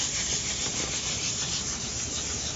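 Close, continuous scratchy rubbing of 1000 grit sandpaper worked under firm pressure over a surface, an even, dense abrasive hiss with no pauses.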